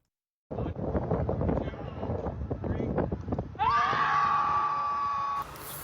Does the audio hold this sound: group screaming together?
yes